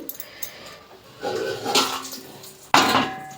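A metal lid set back onto a pan while a dosa made from idli batter cooks: soft clinks, then a brief hiss and a sharp clatter near the end.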